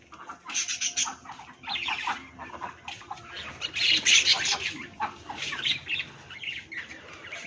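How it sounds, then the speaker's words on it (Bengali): Ducks squawk and quack in bursts around water, loud and close and overlapping one another, while a person talks nearby. "হাঁসরা জলে খেলতে ভালোবাসে"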